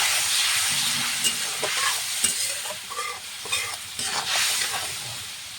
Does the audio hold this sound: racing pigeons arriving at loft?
no